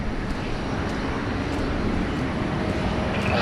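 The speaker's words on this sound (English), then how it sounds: "we've got the China Eastern rolling out" A China Eastern airliner rolling out at Sydney Airport, its engines giving a steady broadband roar that holds level and close throughout, with no talk over it.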